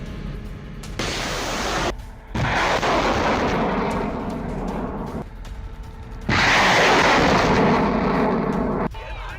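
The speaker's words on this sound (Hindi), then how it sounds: "इधर खार्किव में रूस का MLRS से हमला।" Russian MLRS rocket artillery attack in Kharkiv, heard as sustained loud, roaring bursts of launch and impact noise that rise and fall in long waves over several seconds, with no talk.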